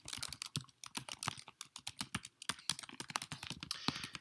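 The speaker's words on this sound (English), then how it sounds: "So let's type out our print statement." Fast, close typing on a computer keyboard, crisp key clicks in quick irregular bursts with short pauses, no voices.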